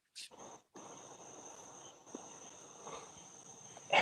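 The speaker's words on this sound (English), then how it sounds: "we're hearing those crickets nice and loud" Crickets from a played recording chirp in a steady, faint high trill that runs continuously under a soft background hiss, with a couple of small clicks.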